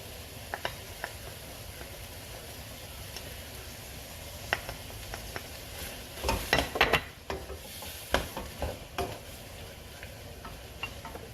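Seafood, long beans and basil stir-fried with oyster sauce in a pan, a faint low sizzle with scattered clinks and a cluster of scraping, stirring strokes midway, close and quiet with no talk.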